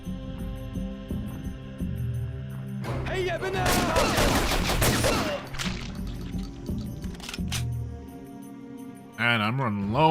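In the Doom mod Reds Over World, a dense burst of rapid video-game gunfire fills the middle of the clip amid thuds and other game noises, with a voice talking over it.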